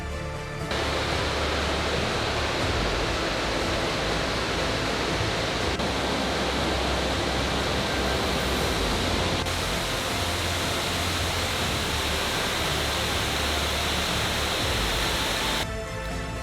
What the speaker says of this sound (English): Can already hear the falls.